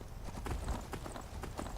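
Horse hooves clip-clop at a steady trot in Skyrim, a run of rhythmic, moderately close thuds over a dull outdoor background.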